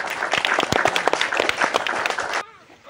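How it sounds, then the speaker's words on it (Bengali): Dense, steady clapping from an audience at a ball-throwing prize game cheers the winner for about two seconds, then cuts off abruptly into near silence. "প্রতিযোগীর জন্য করতালি করতালি।"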